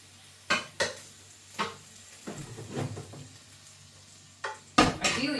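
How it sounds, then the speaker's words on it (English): Chicken sizzles steadily in a pan while a utensil scrapes and stirs it several times, with clanks against the pan. "Just going to give that chicken a stir because it's starting to. You can hear it now."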